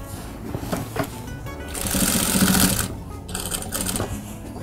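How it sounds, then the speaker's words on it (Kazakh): A sewing machine stitching an edge of fabric, a close, steady rapid rattle of needle strokes that swells louder for a moment in the middle and runs continuously throughout. "Аударамыз да шетінен тағы да бір отделочкамен тігіп шығамыз."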